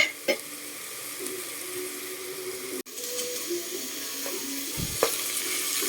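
Ginger sizzles and fries in a hot pan for tinola with a steady crackling hiss, interrupted by a few soft clinks and stirring sounds.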